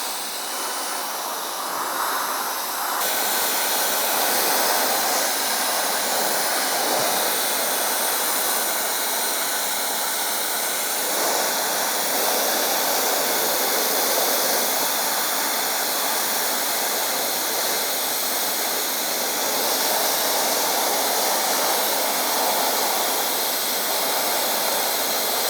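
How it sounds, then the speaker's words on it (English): An air blower roars steadily and loudly, blowing water off a car's front bumper and edges after paint protection film is applied, a continuous rushing hiss with slight shifts as it moves around. "So we used our handy dandy blower to blow out all the front end over here"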